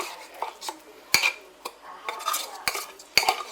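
Canned tuna being scraped and broken up in a dish for a pasta bake, a utensil clinking and scraping against the dish in irregular bursts, with sharp taps and softer scrapes, close and fairly loud.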